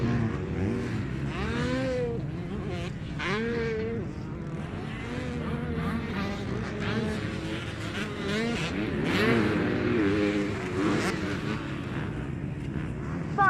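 Motocross motorcycles on the final lap of a Kanto championship national-class heat roar and whine as engines rise and fall through gears, a busy mix of near and distant bikes under steady race commentary.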